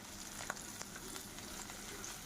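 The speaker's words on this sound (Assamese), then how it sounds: "এতিয়া আলুখিনি মানে প্ৰথমতে ভাজি লওঁ ভালকৈ।" Potato pieces fry in oil in a pan with a faint, continuous sizzle, broken by a few soft crackles and light stirring clicks.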